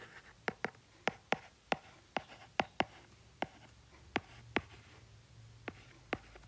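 Chalk or a pen writing out a chemistry rate equation, a string of sharp, sparse taps and short strokes in a loose, irregular rhythm, close and quiet with no talking.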